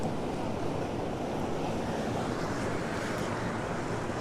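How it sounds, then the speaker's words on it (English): Strong wind buffets Currumbin Beach in Queensland, a steady roaring wash of gusts and surf noise that stays constant and fairly faint throughout, with no talking. "very windy"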